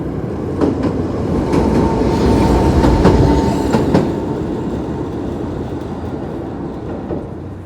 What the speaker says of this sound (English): There's the train crossing you can enjoy.